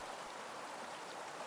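Water lapping gently at a hot spring at dusk, a soft, steady wash of small splashes and trickles that stays even and fairly close throughout, with no voices.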